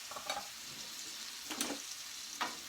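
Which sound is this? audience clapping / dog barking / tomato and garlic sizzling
tomato and garlic sizzling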